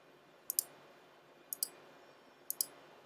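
Three pairs of quiet, sharp clicks spaced about a second apart, like a mouse or key being pressed repeatedly at a virtual keyboard on a Mac during a server install, against a faint hiss.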